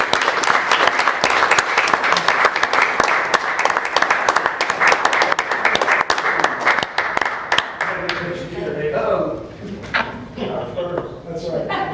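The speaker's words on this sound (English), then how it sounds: "we would like to give him a round of applause for his 15 years" At a city council meeting, the room applauds a retiring employee with about eight seconds of loud, dense clapping that thins into scattered claps as people begin talking.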